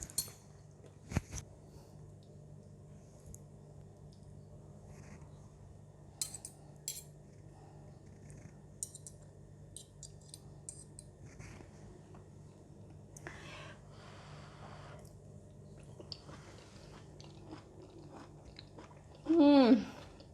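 Someone eats braised pork shoulder with winter melon using cutlery. Soft, scattered clinks of utensils against a dish mix with quiet chewing in a calm room, and a brief louder clatter comes near the end.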